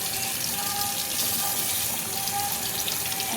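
Potatoes being scrubbed under a running kitchen tap, a steady broadband rush of water pouring into a sink with faint handling, continuous and close, no talk.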